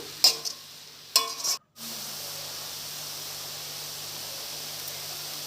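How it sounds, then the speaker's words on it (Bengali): A couple of quick scraping stirs in a wok, then a steady, even sizzling hiss of khesari greens frying that carries on to the end. "ভালো করে নাড়াচাড়া করে ভাজা ভাজা করে নেব"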